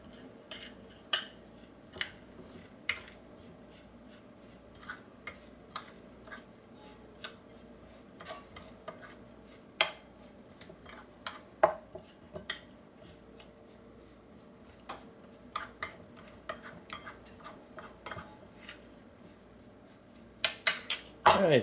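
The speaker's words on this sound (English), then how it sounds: "I'm just going to mix that up." Dry ingredients are stirred in a bowl for fried eggplant batter, heard as scattered utensil clinks and taps against the bowl at an irregular pace over a quiet room hum, with a burst of louder clatter at the end.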